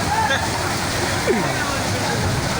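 Rainwater floodwater flows and sloshes steadily around floating shipping containers in Karachi, a loud continuous rushing wash with no break, and a faint voice underneath.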